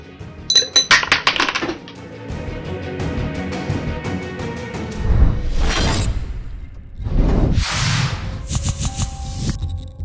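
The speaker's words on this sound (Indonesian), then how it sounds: "koin ini bergerak semakin kencang sampai mampu keluar dari toples kaca yang tertutup" A coin moves inside a closed glass jar, giving bright metallic clinks and rattles against the glass in quick bursts, then sliding, swishing scrapes and a few final jingles, close and fairly loud.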